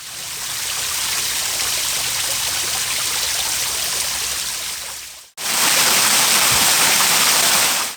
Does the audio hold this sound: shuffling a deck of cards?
no